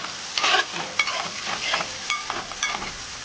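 Prawns and coriander powder are stirred in a frying pan, with quick scraping strokes over a soft, continuous sizzle heard close up.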